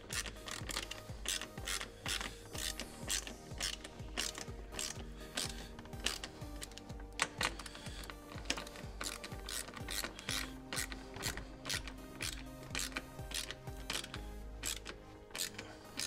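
Hand ratchet tightening screws that hold a car kick panel and speaker pod, a steady run of close, crisp clicks with brief pauses and repeated bursts, alone with no talk.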